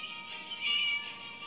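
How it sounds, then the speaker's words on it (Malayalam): In the Scary Teacher 3D video game, a cat gives a single clear meow that swells briefly in the middle, alone against a quiet backdrop. "പൂച്ചക്കട സൗണ്ട് കേട്ടുകൊണ്ടേ ഇരിക്കണം"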